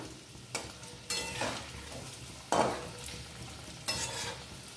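Egg devil chops coated with chicken mince fry in oil, a steady close sizzle broken by several bursts of louder crackle and stirring scrapes as chops are turned, no talk.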